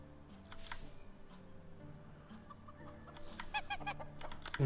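Chickens cluck and a rooster calls in the medieval farming game Medieval Dynasty, soft and somewhat distant over a low background hum, with a louder burst of clucking near the end.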